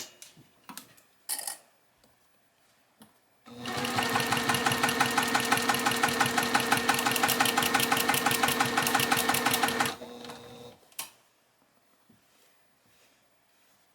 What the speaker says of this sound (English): you're gonna sew this again at a scant 1/4 inch seam allowance